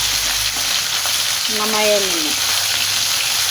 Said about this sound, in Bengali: এই যে লাল লাল হয়ে এসছে, আর একটু ভাজবো